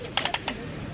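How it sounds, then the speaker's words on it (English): Birds squabbling at waterfowl feeding time at Homosassa Springs, giving four sharp, loud calls in quick succession in the first half, then only a background hum. "Bird fight."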